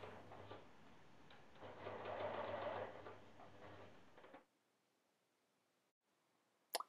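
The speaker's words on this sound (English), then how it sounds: "that is sewn down along the curved edge using a zigzag stitch" Sewing machine running a zigzag stitch along the curved edge of a kite patch of Dacron sailcloth, a steady mechanical whir with a low motor hum for about four seconds, then it stops and the room falls quiet.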